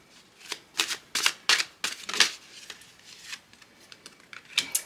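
A deck of tarot cards is shuffled up close for one more draw, with a quick series of crisp riffling bursts in an uneven rhythm and a short pause before a final flurry.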